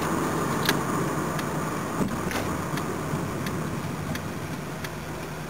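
A 1984 Toyota Cressida with slipping steering rack bushes drives along, its steady engine and road drone running throughout, with a few faint ticks and knocks from inside the cabin.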